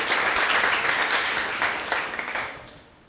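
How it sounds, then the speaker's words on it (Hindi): Students in a school classroom clap together in one dense burst of applause that fades out over about three seconds, with no voices over it. "तालियां बजाओ भाई आकृति।"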